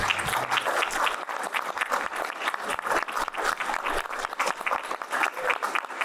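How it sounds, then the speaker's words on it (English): Audience applause for the candidates at a country club candidates' forum, a dense, steady roar of many hands clapping that fills the whole stretch at a fairly loud, even level. "Let's give them all a round of applause."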